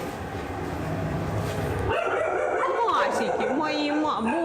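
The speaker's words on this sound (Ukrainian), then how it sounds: "На даний момент тут знаходяться собаки з Херсона" Dogs rescued from Kherson bark and yip from enclosures at a veterinary clinic where animals recover after surgery, with puppies in upper pens and adult dogs below; the barking is steady and fairly close, and people talk over it.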